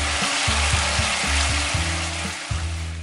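Spice paste mixed with curd frying in a pan for doi potol, loud close bubbling sizzle over a steady hiss, with a low rhythmic thumping underneath and no talk.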